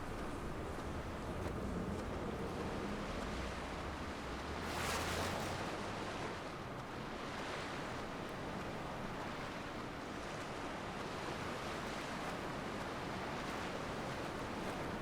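Ocean surf rolls in the Dear Esther game, a constant broad wash of waves and wind with one slightly louder surge, distant and even throughout.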